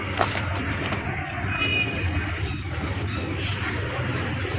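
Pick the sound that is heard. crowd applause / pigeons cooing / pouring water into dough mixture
pigeons cooing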